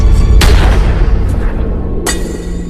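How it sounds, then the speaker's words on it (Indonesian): A film's psychopath scene with police being killed, heard as two sharp gunshot cracks over a loud rumbling, noisy background, the first early and the second about a second and a half later, with no talking. "Emma mendengar suara tembakan"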